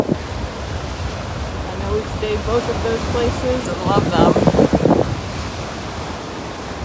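Ocean waves wash onto the beach at Sanibel in a steady, broad surf roar with wind buffeting the microphone, while a person talks over the sound partway through.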